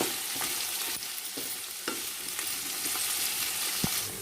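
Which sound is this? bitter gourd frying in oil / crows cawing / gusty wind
bitter gourd frying in oil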